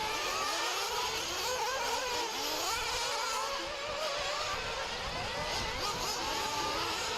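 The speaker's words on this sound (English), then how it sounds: "They're just warming up the engines." Nitro RC trucks warm up their engines outside during Dirt Nitro Challenge practice, a loud, continuous buzzing engine drone with wavering pitch and revs, close by and steady throughout.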